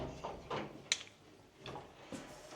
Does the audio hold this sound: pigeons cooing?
no